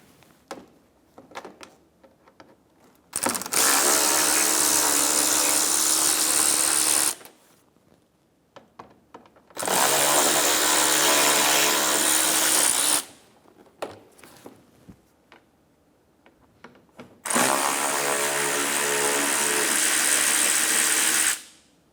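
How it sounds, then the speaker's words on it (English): A power tool backs T20 screws out of the inner fender liner of a 2012-2020 Chevrolet Sonic, in three long, loud, steady whirring bursts of about four seconds each, separated by quiet gaps with small handling clicks. "Remove the 3 T20 screws in the inner fender liner."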